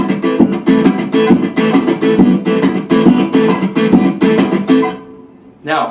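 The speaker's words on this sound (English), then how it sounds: "I can actually hit the fretboard on beats" An acoustic guitar keeps up a triplet strumming pattern close up, with percussive slaps on the fretboard landing on beats 2 and 4. The strumming dies away before one last brief hit.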